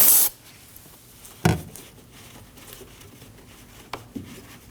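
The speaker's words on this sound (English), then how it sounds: "We'll use our brake parts cleaner and clean around the cap." Short hiss of brake parts cleaner sprayed around the brake fluid reservoir cap of a 2003-2006 Subaru Baja, one loud burst at the start and a brief second spray, with small faint taps after.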